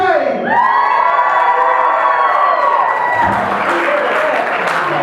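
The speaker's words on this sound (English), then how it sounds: "So clap, scream, cheer, whistle, bang your heads together, whatever." A reception crowd erupts on cue, loud continuous cheering, screaming and whooping with children's shouts mixed in over a bed of clapping, staying dense and energetic throughout.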